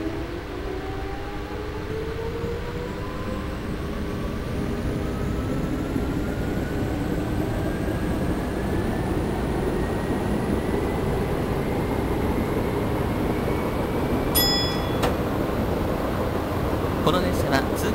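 A Tokyu 8000 series commuter express train pulls away in a train simulator, a steady motor whine rising in pitch over constant rolling noise, with a brief chime or signal tone near the end.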